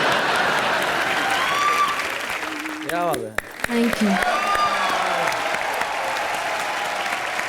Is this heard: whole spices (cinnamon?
no